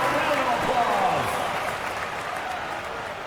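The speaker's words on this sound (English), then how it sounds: "Give yourself a round of applause." Simulated arena crowd applause in the NBA 2K26 basketball game between the '02 Nets and '89 Pistons swells, then slowly fades, with a commentator talking over it.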